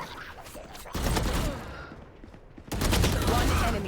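Rapid bursts of gunfire in the tactical shooter Valorant during a collegiate esports match, two loud volleys separated by a quieter gap, with faint commentary underneath.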